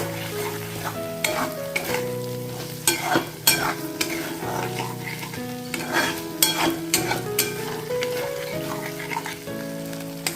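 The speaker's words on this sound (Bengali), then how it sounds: "এখন আমি ভেজে রাখা পনিরগুলো এর মধ্যে অ্যাড করে দিচ্ছি দিয়ে আরও দু মিনিটের মতো এটা কষিয়ে নেবো" Fried paneer being stirred and sautéed in a pan, frequent sharp scrapes and knocks of a spatula over steady frying sizzle, with faint music-like tones in the background.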